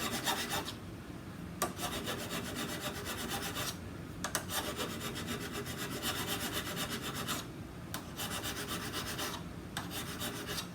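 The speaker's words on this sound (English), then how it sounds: "I'll show filing one of these down. It's just a regular flat file" A regular flat file rasps across welding material in steady back-and-forth strokes, each pass a gritty scrape with short pauses between, close and moderately quiet.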